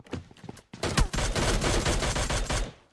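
Bursts of rapid gunfire crack in quick succession, a short volley followed by sustained automatic fire, loud and close with no voices.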